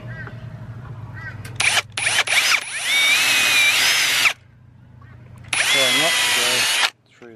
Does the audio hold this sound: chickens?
no